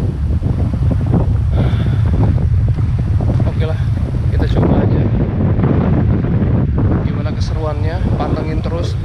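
Strong wind buffets a microphone on the coast of west Bali during a fishing trip, roaring continuously with surf and sea noise beneath, while someone talks over it.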